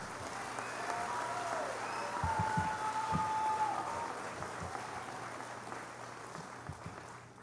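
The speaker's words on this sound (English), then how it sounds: "Please give these seniors a round of applause." Applause for graduating seniors at a high school graduation ceremony, a steady crowd clapping that swells around the middle, then thins and fades toward the end.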